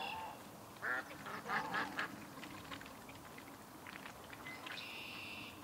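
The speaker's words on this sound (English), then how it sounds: "She's got to be one of the loudest ducks here on the property." A loud duck quacks repeatedly nearby in a farm setting, a burst of raspy honking calls in quick succession, followed by quieter scattered quacks and a faint higher bird call over low outdoor background noise.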